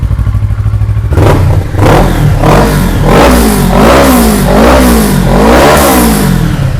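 A 2017 Kawasaki Versys 650 motorcycle engine idles loudly up close, then is revved repeatedly in a rising and falling series of throttle blips over a steady rumble.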